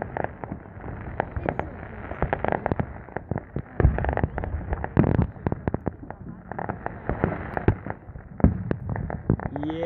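Fourth of July fireworks burst and crackle continuously for about ten seconds, dense rapid pops and booms overlapping with some louder blasts, with people's voices faintly in the background.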